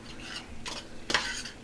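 Pasta, beef and cheese being mixed together by hand in a dish, soft squelching and scraping bursts with a couple of sharper stirring swishes, close and quiet.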